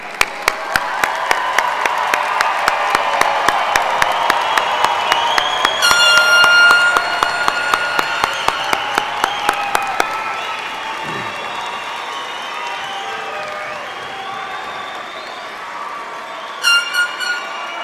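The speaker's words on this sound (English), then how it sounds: "Let's give them a big round of applause." The audience at the Green Bay Southwest High School graduation applauds and cheers the standing Class of 2025, with sustained crowd clapping, whoops and a rhythmic clap pattern that fades out, then a brief final burst.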